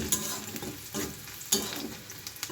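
Onions fry in a pan while being stirred, a soft sizzle broken by several scraping stir strokes and light clatters at irregular intervals, close and moderately quiet, with no voices.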